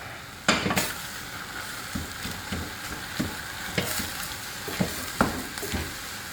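Ground beef and onion sizzle steadily in a frying pan while a utensil mashes and scrapes through the meat, giving a string of sharp knocks and scrapes over the constant frying hiss.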